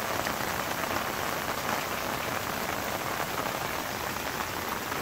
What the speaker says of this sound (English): Got another heavy rain.